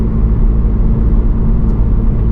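2024 Toyota GR86 Base sports car driving down the road, a steady loud low engine drone and road rumble from inside the cabin, held at moderate revs without any change in pitch.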